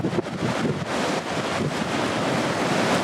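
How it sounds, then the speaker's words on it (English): Heavy surf roars continuously while strong wind buffets the microphone, a dense, unbroken rush of noise with no voices, on the coast at New Plymouth, New Zealand. "Some heavy surf coming in."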